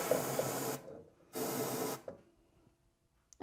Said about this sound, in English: I'm going to take this electronic cleaner and spray it back there.